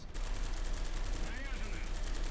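Gunfire from armored vehicles in the War Thunder video game, a steady dense roar of shooting and battle noise throughout with a faint whistling shell passing midway, under occasional voice.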